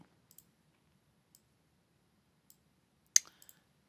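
A computer mouse clicking close by in a quiet room while drawing quilt patterns in Innova Mach 3 software: a few small sparse ticks, then one sharper click followed by a quick cluster of light taps.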